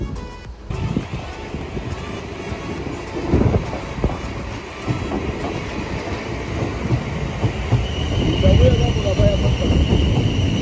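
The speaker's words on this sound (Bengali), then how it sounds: "লাকিলি আমরা এসে ট্রেনে উঠলাম" Steady rumble and rattle of a train running on rails, heard from inside a carriage on a day trip from London to Durdle Door, with people talking quietly under the noise.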